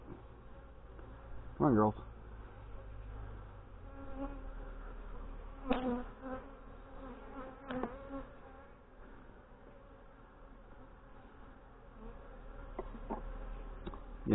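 Dense buzzing of honey bees swirls around an opened backyard hive that is still trying to swarm, a close, steady drone. A person speaks a few words briefly, and there are some handling knocks.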